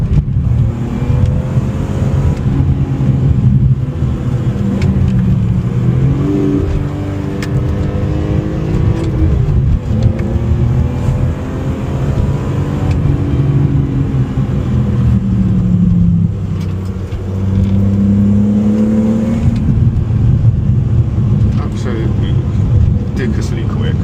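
A Renault Clio V6 Phase 1 is driven hard on a UK country road, its engine and exhaust droning loudly and steadily, rising and falling in pitch through gear changes for the whole stretch.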